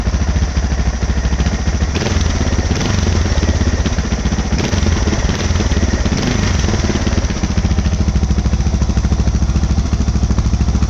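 A Suzuki DR650 motorcycle engine idles steadily and loudly up close for the whole stretch, its even low thumping broken only by a few faint clatters.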